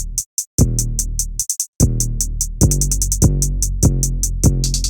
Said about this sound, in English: And then the hi-hats.